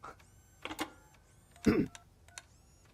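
Payphone dialing in the video game RoboCop: Rogue City: a few short electronic keypad beeps and clicks in quick separate bursts, close and fairly quiet over a hushed background.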